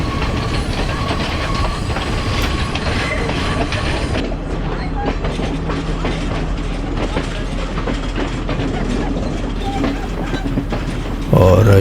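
A passenger train rolls steadily downhill on a mountain line toward Ella, a continuous loud rumble of wheels and carriages with clattering rail joints throughout, and a brief louder burst near the end.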